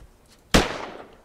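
A single sharp gunshot rings out in the survival game Hurtworld, a loud close crack with a long trailing decay, fired as a warning shot.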